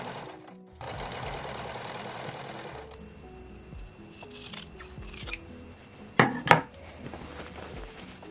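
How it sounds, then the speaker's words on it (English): A domestic sewing machine stitching fabric pieces together for a vintage-style dressing gown, its motor running in steady bursts with a few sharp clicks and handling knocks between runs, close and fairly quiet with no talk. "I'm just going to move over the front so that I can sandwich this new piece onto it, and then sew them together."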